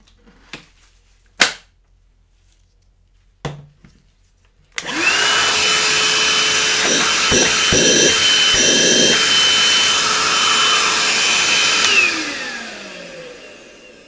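Einhell PXC-TE-VC 18 Li cordless hand-held vacuum starts after a few sharp clicks and taps, then whines steadily for about seven seconds with rattling bursts as debris is sucked in, before spinning down.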